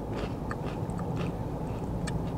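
Crisp, crackly crunching of fried chicken katsu being bitten and chewed up close, a few sharp crunches over a steady low background.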